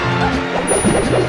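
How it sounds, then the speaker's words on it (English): Up smash attacks trading hits in Super Smash Bros. Melee during a doubles match, heard as dense, loud game impacts and crashes layered over crowd and commentary noise, with no clear gaps. "Trading up smashes, but Billy's up smash doesn't kill."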